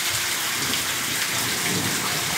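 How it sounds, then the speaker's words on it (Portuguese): Heavy rain pours down steadily in Conceição, a dense, loud, unbroken hiss of downpour with no voices. "olha que maravilha de chuva aqui em Conceição nesse momento. Muita chuva mesmo, viu?"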